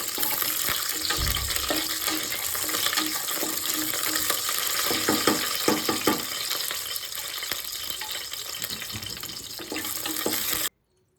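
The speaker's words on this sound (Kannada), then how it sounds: "ಇದೆಲ್ಲನೂ ಹಾಕ್ಕೊಂಡು ಇವಾಗ ಸ್ವಲ್ಪ ಸಿಮ್ಮಲ್ಲಿ ಇಟ್ಕೊಂಡು ಹುರ್ಕೊಳ್ಳೋಣ" Cloves and whole spices frying on a low flame in a pressure cooker for mushroom biryani: a steady, close, broadband sizzle runs the whole time, with occasional soft stirring clinks and no talking.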